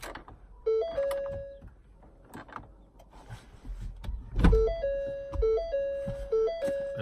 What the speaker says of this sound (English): I had to roll up the windows.